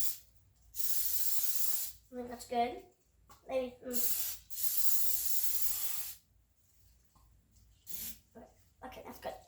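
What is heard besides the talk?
cooking spray sprayed onto pancake pan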